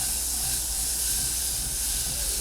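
Butter melting in a pan for a homemade cheddar mac and cheese sauce gives off a continuous, even hiss and sizzle with no pauses and no talking.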